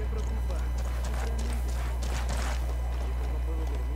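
Horse hooves clip-clopping at speed in the video game Ghost Recon Wildlands, a rhythmic run of hoofbeats over a steady low engine-like drone, with someone talking over it.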